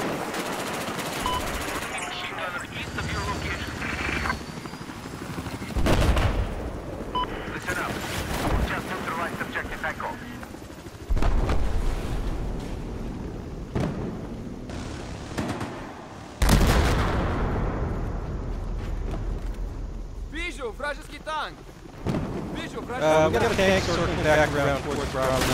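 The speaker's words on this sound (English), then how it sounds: "he's taking shots at Bravo from there" Loud machine-gun bursts and heavy explosive booms from a Battlefield 4 multiplayer match, several sharp blasts punctuating steady automatic fire, with players talking over the action.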